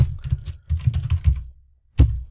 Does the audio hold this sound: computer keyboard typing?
yes